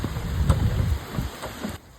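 Rain falls steadily outdoors during coilover suspension work on a BMW E46, a continuous close hiss with a few soft low thuds and no voices.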